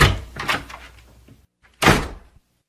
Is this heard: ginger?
no